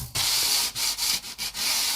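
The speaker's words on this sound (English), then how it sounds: "just let the sort of sanding block do the work" Steady, rasping strokes of a sanding block rubbing back and forth over the metal frets of a Squier guitar, with brief pauses between passes, close and fairly loud.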